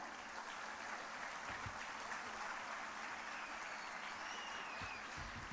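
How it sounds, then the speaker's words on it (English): An audience at a girls' school annual day applauds and cheers for the toppers, a continuous, even, distant-sounding clapping with faint crowd noise throughout. "Please give them a loud cheer."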